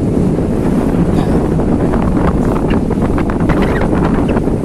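A sea breeze blowing at Hutan Cemara beach in Cidaun, Cianjur, a loud, continuous rush of wind buffeting the microphone, with possible surf mixed into the steady roar.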